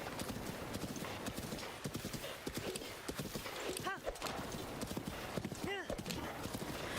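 Horse hooves clip-clop in Zelda: Breath of the Wild, a steady rhythmic trot of galloping footfalls with a couple of short whinnies partway through, played under continuous talking.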